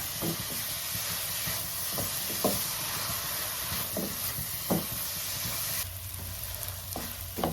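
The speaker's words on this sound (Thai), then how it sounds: "แล้วก็พาคลุกเคล้าให้เข้ากันดีค่ะ ให้ข้าวเม่าดูดซึมเอาน้ำกะทิ ของเรา จนนิ่มดีเลยนะคะ" Khao mao young rice frying and being stirred in coconut milk in a pan: a steady, loud sizzle runs throughout, with repeated soft scraping strokes of the spatula at irregular intervals, the hiss easing slightly near the end; no talking.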